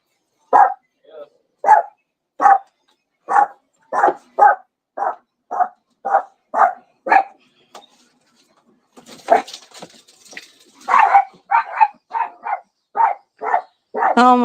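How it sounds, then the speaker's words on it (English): Dogs bark repeatedly in a steady rhythm of sharp, loud, close barks, with a short pause before a burst of overlapping barking resumes. "Oh my goodness, these dogs have lost it."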